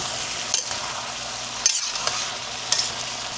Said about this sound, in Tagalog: Yun, kumulo na.